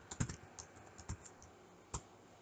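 Scattered keystrokes on a computer keyboard while code is written, a few soft isolated clicks and short clusters spaced through a quiet, faint room.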